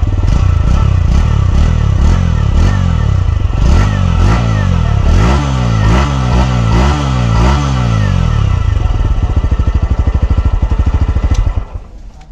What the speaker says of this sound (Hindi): साउंड आप नोटिस करना कैसी क्या साउंड है इस बाइक की।